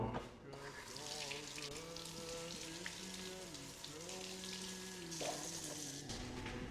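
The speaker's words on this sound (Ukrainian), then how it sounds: "Потім миємо ноги." Tap water runs steadily while feet are washed for ablution, a soft continuous splashing hiss under a sustained melodic tone in the background.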